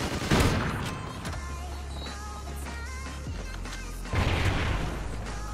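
Gunfire in an online shooter video game played against bots, with sharp bursts of shots at the start and near the end and game effects and tones running between them, fairly quiet overall.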